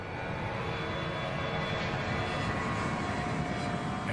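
Boeing 757 jet in flight, its engines giving a steady, broad roar that holds evenly throughout with no pauses or changes.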